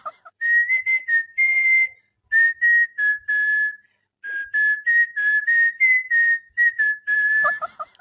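A person whistles a lively tune up close, in repeated short phrases of clear steady notes with brief pauses between them, alone with no other sound.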